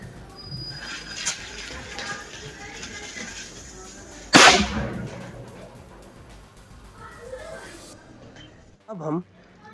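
An unwrapped sutli bomb firecracker bursts once with a sharp, loud crack outdoors, followed by a fading rumble and scattered debris noise, with faint background sounds before it.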